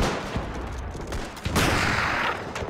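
Old rifle fire and battlefield gunfire in a WW1 video game form a continuous, dense rumble, with sharper reports standing out near the start and midway through.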